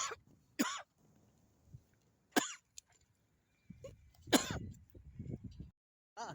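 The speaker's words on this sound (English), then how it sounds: "Just had a bit of water to take that cough away." A person has a coughing fit outdoors at the seaside in St Anne's: several sharp, harsh coughs and throat-clearing bursts come in irregular clusters, close and loud, with quiet gaps between.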